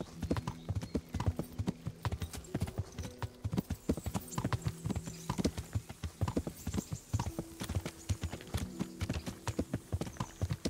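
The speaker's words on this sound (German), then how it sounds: "Wir haben ein neues Pferd." Steady clip-clop of horse hooves in a quick, regular trotting rhythm in the video game Kingdom Come: Deliverance, close and fairly loud, with occasional faint voices beneath.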